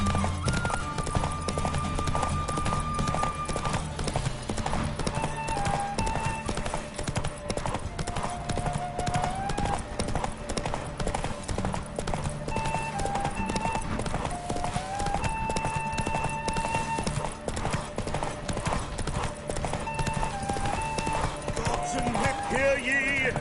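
Roach the horse galloping in a derby race in The Witcher, a fast continuous hoofbeat rhythm throughout, with game music and occasional voices over it.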